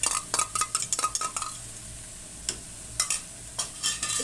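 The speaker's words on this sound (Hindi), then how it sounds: "इसको हम इसके साथ ही फ्राई करेंगे।" Ginger garlic paste frying together with onion paste for a korma, a steady soft sizzle beneath repeated scraping and stirring clicks of a spoon against the pan, no talking.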